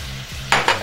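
Shrimp frying in a pan with butter and mushrooms, a close low sizzle broken by two sharp bursts of louder crackling and spatter near the end.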